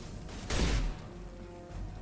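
Weapon fire in the video game Mass Effect 2, a dense burst of shots about half a second long over steady game ambience, with quieter activity around it and no speech.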